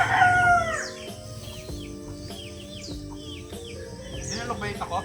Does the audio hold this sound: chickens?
yes